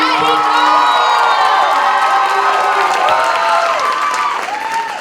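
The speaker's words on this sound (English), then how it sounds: "Now please, a round of applause for Jesus and Valeria representing Mexico." At a college Mr. & Mrs. Latino pageant, the audience erupts for a couple representing Mexico with steady close clapping, shrill cheers and whoops, holding strong throughout before easing slightly.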